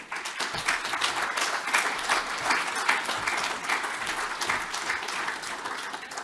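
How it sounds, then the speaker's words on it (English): Audience applause at an annual conference as a speaker leaves the stage, a sustained even roll of many people clapping from start to finish, full and steady with no talk over it. "as she leaves the stage, a round of applause for Carol McCudden."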